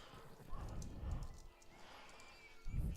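A fast horse in Minecraft gallops with soft, rhythmic hoof thumps in repeated bursts, close by, under light background noise.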